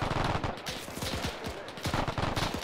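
Machine gun fire from an MG nest in the Arma 3 military video game, with rapid repeated bursts of shots crackling close and loud throughout, interspersed with short gaps.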